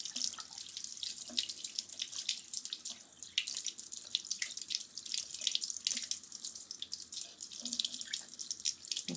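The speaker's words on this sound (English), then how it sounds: "So using warm water, a little bit of soap, and wiping off most of the paint is a good idea." Warm tap water runs into a sink while a paintbrush is washed with a little soap, a steady, fairly quiet splashing stream with irregular drips and small spatters, no voices.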